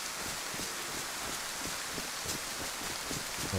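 Steady rain pours down in a dense, unbroken hiss, loud and close throughout with no voices.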